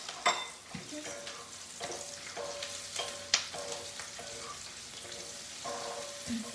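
Onions softening and starting to caramelize in a pan give a steady sizzle and crackle, with scattered clinks and scrapes of stirring against the pan, fairly quiet and without talk.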